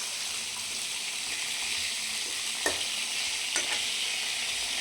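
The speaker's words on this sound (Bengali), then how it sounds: "এইভাবে হালকা হালকা একটু করে লো ফ্লেমে ভাজতে হবে।" Pointed gourd frying gently in oil over a low flame, a steady hissing sizzle throughout with a couple of faint utensil taps.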